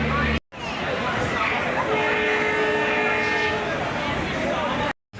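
Shalimar–Puri superfast train pulling out of Santragachi station, a steady loud rumble of rail cars with sustained tonal squeal or horn-like whine through the middle, with crowd chatter throughout.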